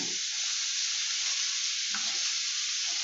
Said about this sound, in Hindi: थोड़ी सी हम लोग इसमें फ्रेश कोरिएंडर डालेंगे